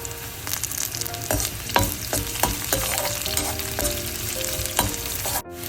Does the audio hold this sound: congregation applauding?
no